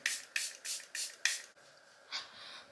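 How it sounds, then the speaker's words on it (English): Setting spray misted onto a face: five quick, close hissing spritzes in a steady rhythm, followed after a pause by one softer spritz. "I just spray a little on my face before I put on highlighter"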